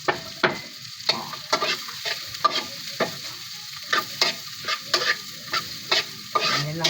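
Onion, garlic, tomato and green chili fry and get stirred in a pan, a steady close sizzle broken by repeated sharp scraping strokes of a spatula at a brisk, fairly regular rhythm.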